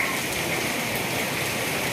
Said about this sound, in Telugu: అయితే ఫుల్ వర్షం ఉంది,